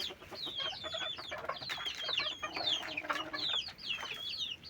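Several farmyard chickens cluck and chatter in quick overlapping calls, fairly close and continuous, with no talking.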